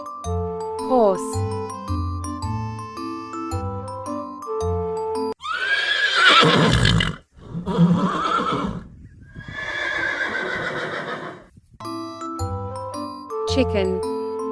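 A horse neighs loudly in a long, shrill whinny with breathy snorts, set among short bright musical jingles in a children's farm-animal vocabulary lesson.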